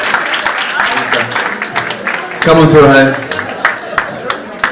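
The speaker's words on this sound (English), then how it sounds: "Give him a round of applause, guys." Audience applause for a raffle winner at a community event, steady clapping that runs under a voice as he calls the winner forward, swelling briefly near the middle.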